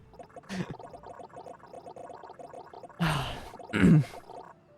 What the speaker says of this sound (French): Sa gorgée d'eau manque de l'étouffer.